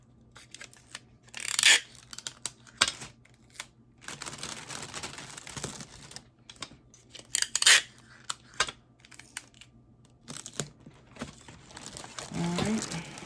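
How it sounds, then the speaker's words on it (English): Tape being pulled and pressed down on a bee-themed gift basket bag, with bursts of crinkling plastic and tape rips scattered over a quiet room, close and moderately loud. "Try to make it even when you tape it down."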